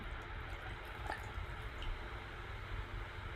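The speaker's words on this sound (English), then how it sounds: "And I'm gonna pour that." Brickwork cider from Toronto Cider House poured straight down into a glass, a quiet liquid fizz and gurgle under a low steady background, with one or two faint drips.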